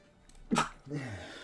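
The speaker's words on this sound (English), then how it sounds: "sneezing sucks" A single sharp human sneeze bursts out mid-clip, loud and close, followed by a breath and faint vocal trailing sounds in a quiet indoor setting.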